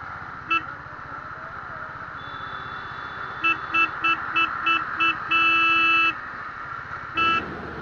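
Vehicle horns honk in night traffic over a running Royal Enfield Bullet motorcycle engine: a quick series of short beeps, then a longer blast and one more honk.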